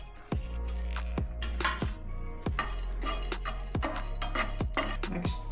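Garlic frying in a pan on a gas stove, with a spoon stirring and repeatedly striking the metal in sharp, close clinks at an uneven rhythm. A soft sizzle continues underneath.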